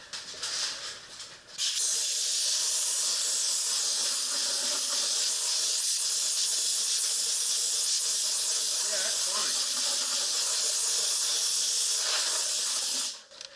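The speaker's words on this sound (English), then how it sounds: "let's blow it with a little bit of air and find out." Compressed air hisses steadily onto masking on a 1966 Mustang in a paint shop, a loud continuous blast lasting about twelve seconds and then cutting off.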